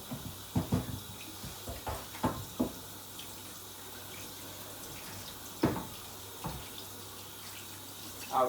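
Running tap water in a kitchen sink while washing food for homemade peanut soup, a low steady trickle broken by several sharp splashes and clatters of handling, fairly close and quiet.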